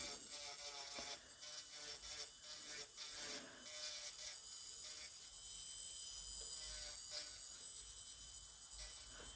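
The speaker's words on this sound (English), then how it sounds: "I'm putting the e-file back into the reverse and doing the other side." Electric nail file running in reverse while filing gel nails during a rebalance on grown-out nails, a steady high-pitched buzzing whine held throughout with faint scraping texture and no speech.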